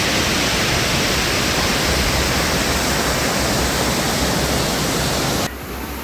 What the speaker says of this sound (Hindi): तस्वीरों में नदी के बहाव का निनाद सुनते ही आप इसका अंदाजा लगा सकते हैं।